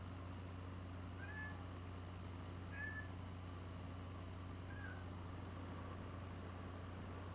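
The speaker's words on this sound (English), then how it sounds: "It's the cat. He's talking." A cat meows three times, short and faint, spaced a second or two apart over a steady low engine drone in a flight-simulator setting.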